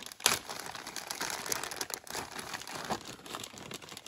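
Plastic hardware bag of O-rings being torn open by hand, with a sharp crinkle near the start followed by steady close crinkling and rustling of thin plastic, alone without voices.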